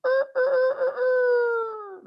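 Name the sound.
person imitating a rooster crowing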